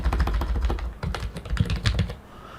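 Quick, close taps on a computer keyboard run in a rapid, slightly uneven burst of keystrokes with no voices.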